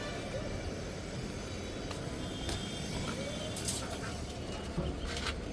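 Domestic pigeons kept in a backyard coop coo faintly under a constant hiss of background noise, with a few soft chirps rising now and then.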